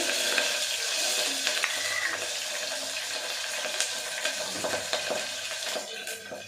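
Curry leaves, green chilies and ginger-garlic paste sizzle steadily in a hot pan with mustard seeds, a dense bright hiss broken by a few stirring scrapes and crackles, close and continuous for tomato bath.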